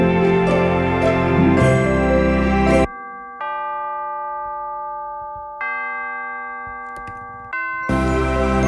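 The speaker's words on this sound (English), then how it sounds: "In tubular bells, stock Logic instrument." Stock Logic tubular bells ring out in slow struck notes, each a bright metallic chime with a long sustaining tail, set between louder passages of full cinematic Christmas orchestration at the start and end.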